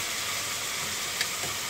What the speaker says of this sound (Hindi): अब इसको भूनेंगे थोड़ी देर,